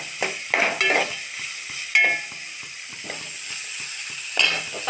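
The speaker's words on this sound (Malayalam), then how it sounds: "നന്നായിട്ടൊന്ന് ഇളക്കി കൊടുക്കാം." Carrots and other vegetables for upma sizzle in a pan while a spoon stirs them, scraping in several distinct bursts over a steady frying hiss, close and fairly loud.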